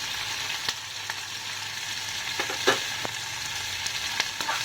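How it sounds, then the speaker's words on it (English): Onions go into a hot pan with dal and green chillies for an idli rava batter tempering, giving a steady close sizzle broken by occasional sharp stirring clicks. "Now I'll add the onions to it."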